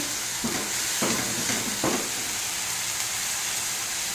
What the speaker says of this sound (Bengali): পেঁয়াজ আলুটা ভালো করে কষে নিচ্ছি।